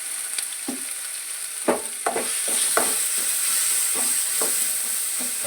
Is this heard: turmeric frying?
yes